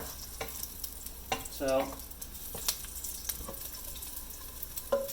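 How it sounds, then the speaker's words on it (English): Garlic sautés in a frying pan as part of a fried rice dish, giving a faint, steady sizzle. Scattered stirring scrapes and clinks break in now and then, and a voice briefly speaks. "garlic is nice and toasted, nice and sauteed"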